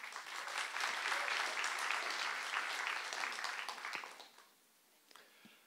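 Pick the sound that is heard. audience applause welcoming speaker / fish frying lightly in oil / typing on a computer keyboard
audience applause welcoming speaker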